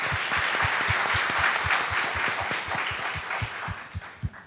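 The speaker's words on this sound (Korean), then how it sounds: "박수 한 번" A panel audience at a Silicon Valley startup event applauds in a full, sustained burst, many hands clapping close together with a steady low rhythmic thump underneath, tapering off with a few last louder claps.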